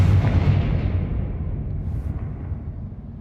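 A Confringo fire-blast spell from Hogwarts Legacy explodes in a loud, deep boom that rumbles and slowly fades over a few seconds, with no talk.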